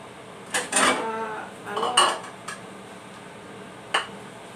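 A lid set onto a cooking pan of sautéed moringa pods with sardines, making a few close metallic clanks and a rattle as it settles, followed by a quieter single clink, with no voices.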